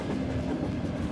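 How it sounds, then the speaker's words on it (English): Two trains pass each other in opposite directions on a double track, producing a dense, steady rumble and rattling clatter of railcars that fills the scene without pause, close and loud. "I turn, there's the two trains. Opposite directions."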